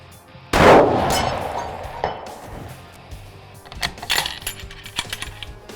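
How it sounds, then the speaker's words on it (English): Rifle fired with a Hawkins muzzle brake while shooting at 400 yards on a Montana elk hunt: one sharp, loud blast with a ringing tail, followed by faint clicks and handling noises. "gonna shoot it at 400, then gonna shoot it at 600"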